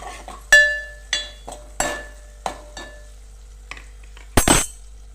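A spoon stirs okra curry with ginger paste in a pan, giving sharp metallic clinks and taps at an irregular pace against the pan, then a brief louder scrape near the end, close and otherwise quiet.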